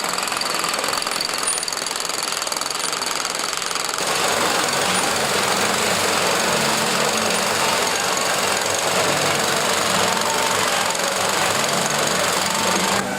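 An old electric farm motor runs loudly and steadily with a rapid mechanical knocking rhythm, continuous and close throughout, with a slight change in tone after a few seconds.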